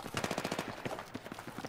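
Automatic gunfire in Battlefield 3 on PS3: a rapid, evenly spaced burst of about eight shots, then a few scattered single shots, fairly faint.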